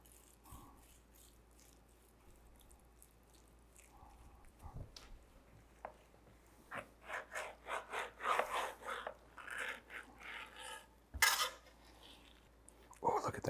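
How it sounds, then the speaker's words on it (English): A knife saws repeatedly through smoked brisket on a cutting board, cutting pencil-width slices, a run of soft rhythmic scraping strokes with occasional clacks and taps. "cutting the brisket into pencil width slices"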